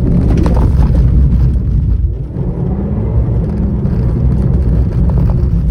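A Mazda MX-5 RF Sport Black sports car's engine drones loud and steady while driving, with a brief dip partway through and a continuous rumble throughout, heard from inside.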